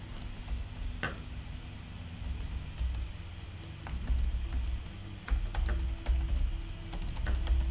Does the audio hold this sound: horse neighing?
no